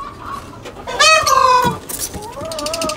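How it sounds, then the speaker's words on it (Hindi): Chickens cluck and squawk nearby, agitated by a cat, a loud call in the middle followed by softer clucks. "बिल्ली की वजह से मुर्गे चिल्ला रहे हैं"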